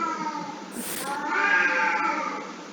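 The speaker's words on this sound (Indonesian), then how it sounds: "Kucing yang malah kelahi ya," Cats fight in a room, with drawn-out yowls and caterwauling that swell in the middle and trail off, close and fairly loud across a few seconds.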